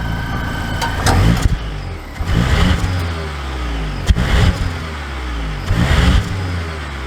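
A 2022 Volvo XC60 B6 Inscription sets off, the engine giving repeated bursts of revving and surging under steady cabin noise, with no talking.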